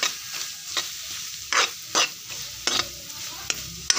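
Egg fried rice with vegetables and egg being stir-fried in a pan until dry: a low sizzle punctuated by sharp, irregular scraping strokes of the spatula, close and distinct.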